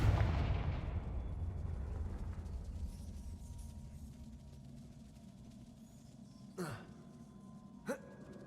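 A Confringo spell explosion in the Hogwarts Legacy video game: a loud broadband blast opens the clip and decays slowly into a rumbling tail, followed later by two sharp, brief pops.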